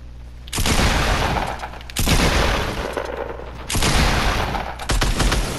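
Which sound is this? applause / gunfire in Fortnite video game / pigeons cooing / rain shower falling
gunfire in Fortnite video game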